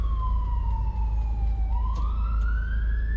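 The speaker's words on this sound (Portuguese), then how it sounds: "Ambulância agora na terceira ponte." Ambulance siren wailing as it passes on a bridge, a loud sweeping tone that falls then rises again over steady traffic rumble.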